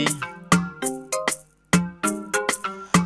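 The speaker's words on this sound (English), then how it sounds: "A guitar piece, you can listen to it how it sounds." Plucked guitar piece for an Afro Bongo beat, a bright, close melody of short percussive notes in a bouncy, syncopated rhythm with a brief pause midway.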